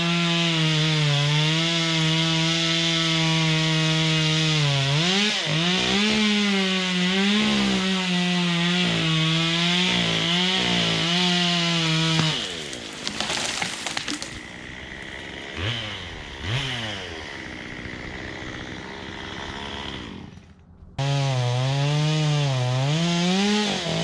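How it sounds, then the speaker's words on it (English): A chainsaw cuts down trees, loud and close. The engine revs up and down repeatedly, then bogs and rasps through wood before it screams back to high revs, with no voices. "So we're going to cut all these down"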